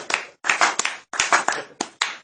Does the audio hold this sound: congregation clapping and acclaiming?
yes